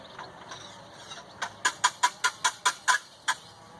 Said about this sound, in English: And whisk is making short work of this.